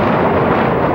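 Artillery fire shelling Grozny, with heavy shells hitting the presidential palace as Russian troops advance, heard as a sustained loud, dense rumble of blasts filling a brief moment, with no voices over it.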